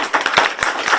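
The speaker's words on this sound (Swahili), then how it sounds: "murei makofi wega" Audience clapping breaks out in a brief, scattered burst, several sharp hand claps in quick succession at close range.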